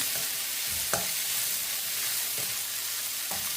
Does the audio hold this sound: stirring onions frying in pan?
yes